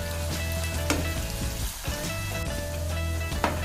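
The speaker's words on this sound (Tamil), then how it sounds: "நல்லா கோல்டன் ப்ரௌன் கலர் ஆகிற வரைக்கும் நல்லா பொரிச்சு எடுத்துக்கோங்க" Onions deep frying in oil for chicken sukka, a dense steady crackling sizzle close by with occasional bubbling pops, no talking.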